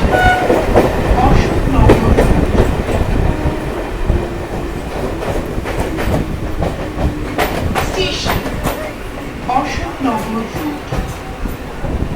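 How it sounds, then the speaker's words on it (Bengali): A Sealdah–Bangaon line local train pulls away from Guma station, its wheels clattering steadily over the rails with loud carriage rumble and bursts of horn, while people talk aboard the car. "আমাদের ট্রেনটা গুমা স্টেশন থেকে ছেড়ে দিল"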